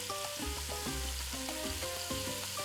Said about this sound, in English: See how quickly they sear? That's what you want.